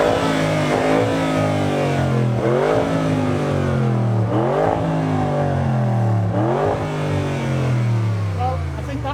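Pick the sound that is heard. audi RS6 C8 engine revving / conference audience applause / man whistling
audi RS6 C8 engine revving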